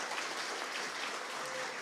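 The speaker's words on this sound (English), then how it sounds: "when he got Hayley, and I think that deserves some applause as well." Wedding guests at a garden reception applaud together, a steady dense patter of clapping filling the short moment without pause, fairly soft and even in level.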